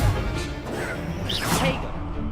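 Spell effects in the wizarding game Hogwarts Legacy: a loud crashing burst followed by whooshing, swishing magical sweeps, continuous and close with no pauses over about two seconds.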